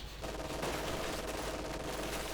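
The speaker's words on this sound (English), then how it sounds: "Shock troops there taking heavy fire." Heavy, continuous gunfire in the World War II strategy game Company of Heroes 2, a dense machine-gun-like rattle with overlapping shots throughout, steady and sustained.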